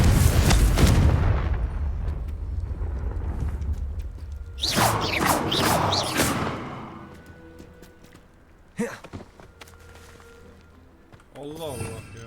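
Confringo fire spells in Hogwarts Legacy burst out as loud, booming blasts, a heavy rumbling one at the start, then crackling impacts and a sharp hit later, with quieter stretches and brief tonal sounds between.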